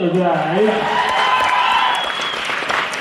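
Audience applause at a mimicry show at Dayanand College in Latur, a loud, dense burst of many hands clapping that carries steadily and tapers slightly, with a voice speaking over the opening moments.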